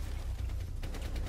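Gunfire in the video game Rainbow Six Siege, a dense burst of rapid shots with sharp repeated cracks toward the end over a heavy low rumble, loud and close.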